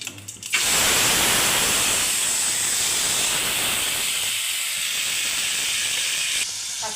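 Spice paste hits hot oil with cumin seeds for a soya chunk curry, bursting into a loud sizzle that holds as a strong, steady hiss and eases only slightly toward the end.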